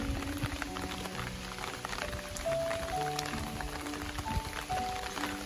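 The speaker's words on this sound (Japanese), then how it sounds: "風が強いのと雨が降ってるので" Steady rain falls in strong wind at a night shrine festival in Okayama, a dense continuous hiss with scattered drips and gusty rustle throughout, no voices.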